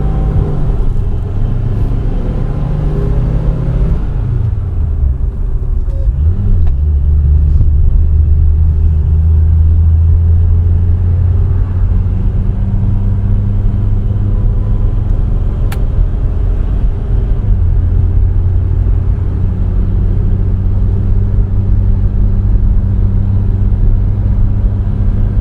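A classic Vauxhall PA Cresta drives with a column gear change and overdrive on second and third, its engine a loud close rumble that drops and rises through gear changes over about 25 seconds.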